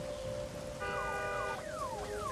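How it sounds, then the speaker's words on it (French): An alarm siren in the video game Days Gone wails steadily with a rising and falling tone layered over a constant background drone, loud and continuous throughout. "Alarme."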